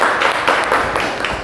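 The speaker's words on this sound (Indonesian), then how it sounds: "boleh tepuk tangan untuk kelompok 1" A class group claps in applause for a first student group during an Islamic religious education teaching practice session, a dense, steady wash of many hands clapping close by.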